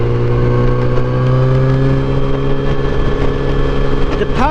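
A Yamaha FJR1300 motorcycle engine idles with a strong steady hum, then revs briefly with a rising whine near the end, loud and close.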